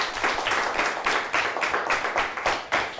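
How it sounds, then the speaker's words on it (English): A school quiz show audience claps together in a sustained round of applause, dense and fairly close, with no voices over it. "Let's give them a nice round of applause."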